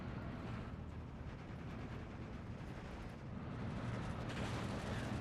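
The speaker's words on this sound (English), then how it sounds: "Mortars coming in." Mortar fire in the WWII strategy game Steel Division 2, heard as a dense, continuous rumble of distant impacts and blasts across the whole stretch, with no talking.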